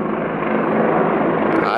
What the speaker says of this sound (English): Every time I start this, I've got army choppers coming over.